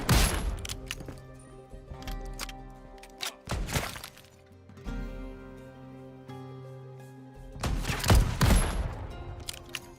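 Gunfire in a Wild West shootout in the open-world survival game Legend of California, with bursts of rapid shots around the start, near the 3.5 to 4 second mark and again near the end, over a steady game soundscape.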